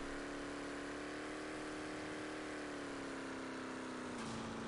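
A steady car engine in the game Mobile Forces hums loudly throughout with a slight rise in pitch, idling and revving, with a brief shift near the end.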